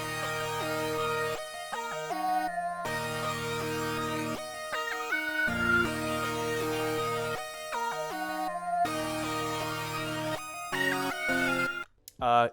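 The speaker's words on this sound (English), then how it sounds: "Altogether, this is what the melody that we're going to be making sounds like." A full rage-style synth melody plays loud and steady as a layered, harmonic lead over sustained chords, dropping out in short gaps and ending with a brief burst.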